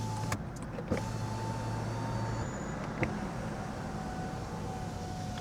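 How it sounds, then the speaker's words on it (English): Power windows on a Lancia Ypsilon whir as they roll up and down inside the cabin, a steady electric motor drone with a few clicks and thumps as the glass reaches its stops. "Rolling up and down the windows."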